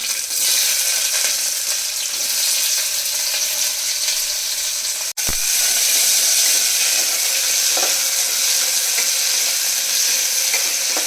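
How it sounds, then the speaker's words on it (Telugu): Onions and green chillies frying in a pan for a wheat rava pulao, a loud, dense, continuous sizzle that holds steady throughout with one brief cut midway, no voices. "ఆనియన్స్ ఒక నిమిషం మనం ఇలాగే ఫ్రై చేసుకొని"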